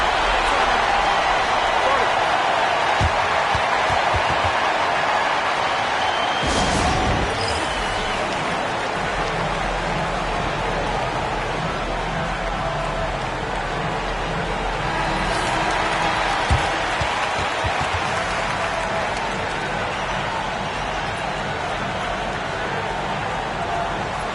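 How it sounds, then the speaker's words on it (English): An arena crowd in a basketball video game, Barcelona against Asvel in a Euroleague esports match, keeps up a steady rushing roar throughout, with a commentator talking over it. "And the crowd is locked in."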